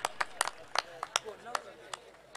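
Scattered claps from a small audience at a cricket premier league prize ceremony in Kalamboli, 2024, sharp irregular hand claps rather than sustained applause, fairly faint and sparse.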